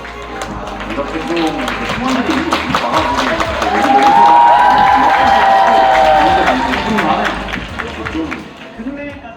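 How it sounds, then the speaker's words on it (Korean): A live esports crowd applauds and cheers for a League of Legends player at an awards event, a broad roar that swells in the middle and holds steady, close and loud. "스매시 선수에게 다시 한번 큰 박수 부탁드립니다"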